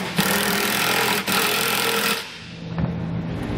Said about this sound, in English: socket to tighten up the two bolts that are going around our frame rail